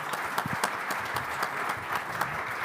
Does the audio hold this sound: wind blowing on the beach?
no